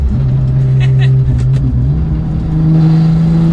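A manual Porsche 911 GT2 of the 992 generation driving with its engine droning and rising in pitch under a shift, a loud steady rumble heard from inside the cabin.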